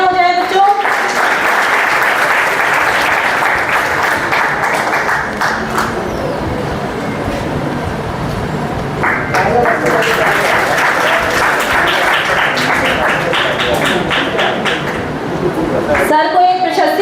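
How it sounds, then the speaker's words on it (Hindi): An audience at an education research conference claps in two sustained bursts of loud applause, with a quieter pause between them and a fresh burst starting at the end. "एक बार फिर से तालियां हो जाए बच्चों"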